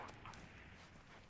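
An attacking dog in the video game Far Cry 3 lets out a few faint, quick yips and barks in close succession.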